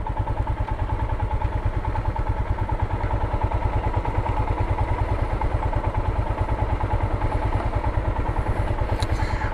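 A Royal Enfield Himalayan runs steadily on a first ride, its thumping single-cylinder engine pulsing in a continuous, loud, close drone with faint clatter and no speech.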